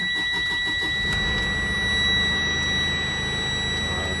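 Diesel engine of a 2021 Thomas C2 school bus starting, a brief low crank rumbling into a steady idle close by, with a constant high electronic tone running throughout.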